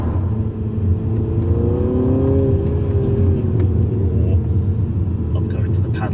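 A Mini fitted with a Remus exhaust accelerates, its engine rising in a rumbling, revving note that swells through the middle, with a voice over parts of it.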